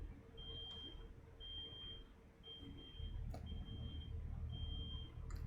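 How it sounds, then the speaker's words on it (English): Something like a smoke detector sends out a faint high beep in an even pattern, about one per second, over a low rumble of background noise indoors. "now the beeping"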